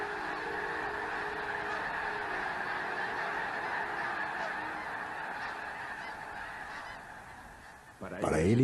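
A flock of snow geese from Wrangel Island honks continuously, a dense overlapping chorus at steady volume, with a louder burst of nearby calls near the end.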